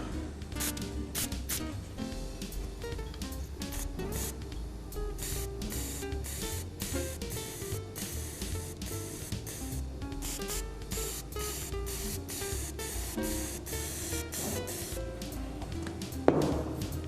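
Spray gun misting a guide coat of color over repaired leather, a continuous close hiss with short bursts and pauses throughout.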